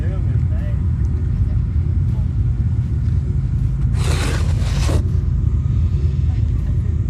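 Race trucks run on a dirt desert track during qualifying for the 2022 TDK Big Sky 200 near Broadview, Montana, a continuous loud engine rumble with a brief rushing pass in the middle.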